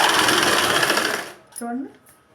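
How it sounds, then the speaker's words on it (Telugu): A sewing machine stitches a straight seam on fabric in a loud, close, steady whir that runs for just over a second and then stops, followed by a brief voice. "అప్పుడు మనం షేప్ కుట్ని పెట్టుకొని స్ట్రైట్గా వేసుకోవాలి."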